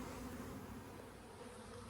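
Honey bees buzz steadily around the hives of a bee yard, a dense continuous drone from many insects close by, with no talking.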